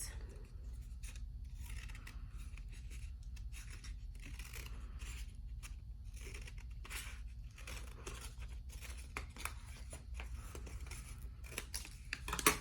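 Scissors snipping through folded white construction paper while making a carnival headdress, a steady run of close, crisp cuts and paper rustles across the whole stretch with no talking.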